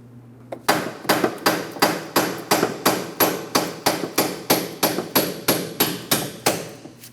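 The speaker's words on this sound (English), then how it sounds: "and a hammer. A couple light taps here." A hammer strikes a splined bolt on a 2004-2008 Pontiac Grand Prix front steering knuckle, about fifteen evenly spaced sharp metallic taps ringing close up, with no talking.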